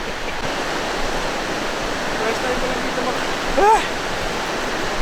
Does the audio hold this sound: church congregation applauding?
no